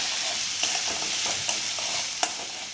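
Chili paste and spices sautéing in a little oil for a Kolhapur-style batata vada filling, a steady close sizzle with a few soft stirring scrapes and no voices.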